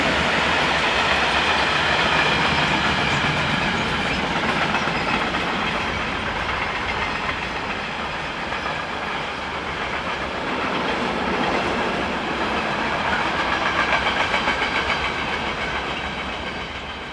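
Freight train hauled by two locomotives on the Swiss main line near Olten, bound for Zurich's Limmatal yard, rumbling loudly and continuously past nearby with wheel clatter and faint squeal, no voices.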